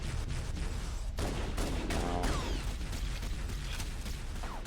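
Heavy machine gun fire in Halo: Combat Evolved, dense rapid bursts of loud gunfire with explosions and mechanical clatter running continuously, no talk over it.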